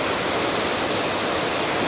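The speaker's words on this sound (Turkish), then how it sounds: "Dediğim gibi arkadaşlar şelale bu şekilde." Waterfall rushing steadily, swollen and muddy with rainwater, a dense continuous roar filling the whole clip with no voices.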